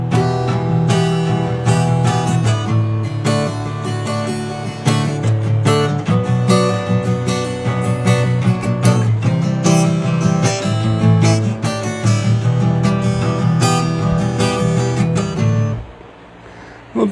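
An acoustic guitar plays the instrumental intro of the Kino song Konchitsya Leto, strummed and picked steadily and loudly up close, with no voices, until the sound drops off near the end.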